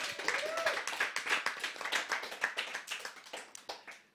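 Audience applause at an in-house StarCraft II tournament, a dense run of claps from a small crowd lasting several seconds, steady and close, with no talking over it.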